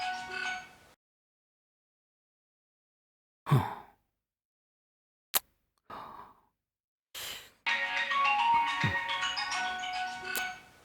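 A mobile phone ringtone starts near the end and plays a steady melodic tone, loud and close. Before it come a few short sighs and breaths separated by silence.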